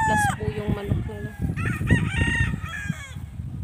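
Several roosters crow and chickens cluck nearby, calls overlapping one after another, with faint voices in the background.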